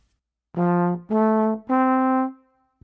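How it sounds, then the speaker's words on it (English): Three sustained tones sound one after another, rising in pitch as the notes of a major triad played separately, each clear and steady with no talking. "this major triad sounds like this"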